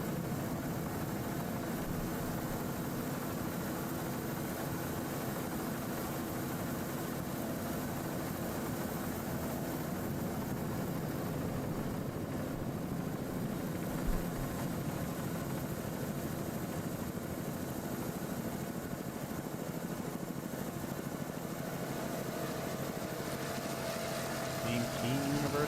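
A single 600 horsepower Chevrolet inboard with a Bravo drive powers a Class 5 racing powerboat at an offshore race on Long Island, a steady broadband engine roar running continuously with a voice talking over it.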